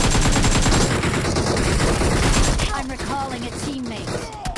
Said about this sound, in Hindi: लड़ाई चालू कर देता हूँ, गोली चला देता हूँ।